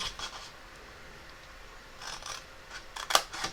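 Scissors snipping card stock for an envelope box, a few short, crisp cuts spaced apart, close and fairly quiet with no voices.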